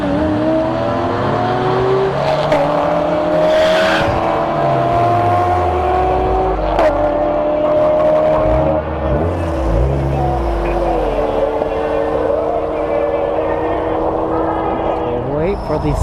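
A Mustang and a C6 Corvette launch side by side at a drag strip, loud engines roaring and climbing through the gears with sweeping pitch rises over about sixteen seconds, with crowd and announcer noise faintly underneath.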